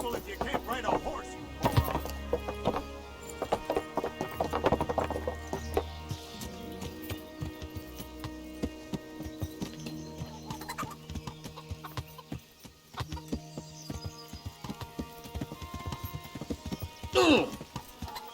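Steady hoof clip-clop of a trotting horse in Kingdom Come: Deliverance runs through, with other game sounds and music-like tones around it and a sharp burst near the end.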